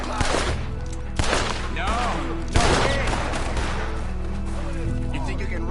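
Gunfire in Red Dead Redemption 2, a night robbery shootout: several loud, close shots crack at irregular intervals over steady background music, with voices talking throughout.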